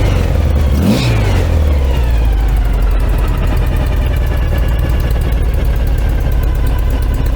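A VW Beetle 1303S with a Vintage Speed exhaust and a more aggressive camshaft gives one sharp, loud blip of revs that drops back to a rough, steady idle, heard close and alone.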